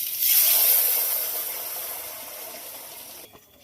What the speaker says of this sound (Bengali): জল দিয়ে দিলাম, গরম জল।